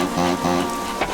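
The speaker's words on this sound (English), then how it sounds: "Oh dear, it's still raining under that gray cloud." Rain falls steadily in an animated children's cartoon, a constant hiss running through the short moment beneath a soft musical bed.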